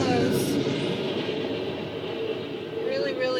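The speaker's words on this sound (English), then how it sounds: "That was a really fast train." A fast train rushes past with a steady, loud roar of wheels and rails that holds throughout, its rumble swelling slightly at the end.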